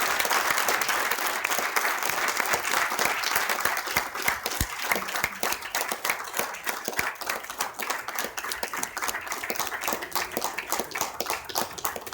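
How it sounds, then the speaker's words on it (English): Sustained audience applause for the Israeli ambassador at a lecture in India, dense steady clapping from a crowd filling the room for about twelve seconds, with no talk over it. "as you continue to clap"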